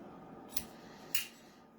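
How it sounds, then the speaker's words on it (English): Small scissors snip twice at a die-cut paper shape for a sparkly evergreen card, giving two crisp, close clips a little over half a second apart against a quiet background. "I'm just going to take my little scissors and snip that right off"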